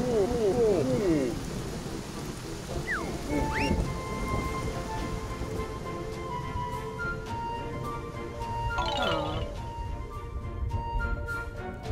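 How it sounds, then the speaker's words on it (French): Thunderstorm rain conjured in the video game Yooka-Laylee, a steady wash of falling rain with rumbling thunder underneath, loud and continuous throughout, with a few brief game chimes and effects rising over it. "On commence par la pluie."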